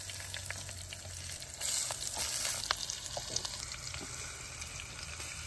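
Chicken frying in hot oil in a pan, a continuous close crackling sizzle that swells louder partway through, with faint stirring and no talk.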